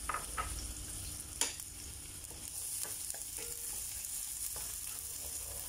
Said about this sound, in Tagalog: Ihulog na natin ang bawang at saka sibuyas.